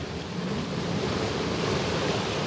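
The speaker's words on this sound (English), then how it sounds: "I'm going to get a picture of the river here, and I've come to a bit down here and there's a waterfall just across here" A river rushes past with a waterfall close by, making a dense, even roar of flowing water that stays loud and unchanging throughout, with no voices.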